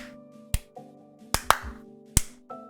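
A handful of sharp, isolated claps ring out over a quiet tonal backdrop as a livestream clap sound effect, four distinct hits spaced irregularly, close and crisp.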